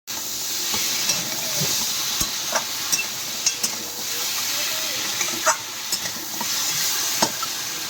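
Sundarbans crab frying in a pan with spices, a steady close sizzle broken by repeated scraping stirs and clinks of the spoon against the pan.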